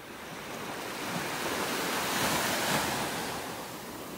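Ocean waves wash onto a beach in North Naples, Florida, a broad, steady surf roar that swells and recedes, with some wind noise and no voices.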